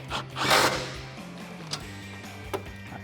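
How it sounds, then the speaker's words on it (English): A 13 mm socket tightens a nylon lock nut while fitting a RedRock cold air intake on a 2004-2008 Ford F150 5.4L, with steady mechanical ratcheting, a low motor hum underneath, and a few sharp metallic clicks near by. "grab your 13 socket and tighten that guy down"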